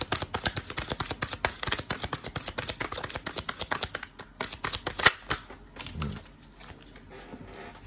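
A deck of cards riffled and shuffled in quick rapid bursts of crisp flutters, fairly close, then a few slower taps and soft handling as it settles.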